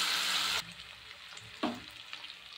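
Prawns frying in a pan give a loud, close burst of sizzle that abruptly drops to a quieter crackle, with a single soft knock partway through.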